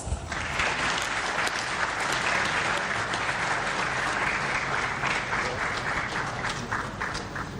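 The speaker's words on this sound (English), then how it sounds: "A round of applause." Dense, sustained applause fills the hall at the closing session of an airline association's annual general assembly, many hands clapping loudly and evenly with scattered voices mixed in.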